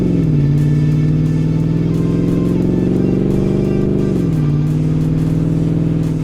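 A 2015-2018 Ford F150 with the 5.0L V8 and a Ford Performance Borla Touring dual exhaust rumbles at a close, steady idle, rises into a held rev, then drops back to a deep idle.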